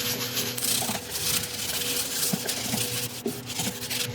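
A drill spins a buffing pad that works polish onto a resin woodturning piece, making a steady abrasive rubbing hiss over a constant motor whine, close up and without speech.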